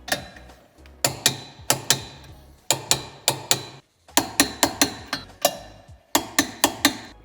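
A socket ratchet tightens 12 mm tow hitch bolts on a 2016-2023 Mini Countryman F60, with close, crisp metallic clicks in quick runs of four or five, broken by brief pauses between strokes.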